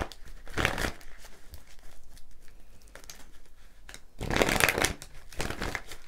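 Tarot cards are shuffled in two distinct bursts of crisp riffling and rustling, one short and one longer, close by, with quiet handling noise in between and no talking.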